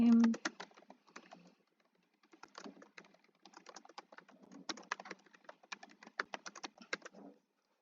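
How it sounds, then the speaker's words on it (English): A client's name is typed on a computer keyboard while filling in a home staging consultation template: close, crisp key clicks in quick uneven bursts, with a short pause early on and no talking. "you just type in the client's name,"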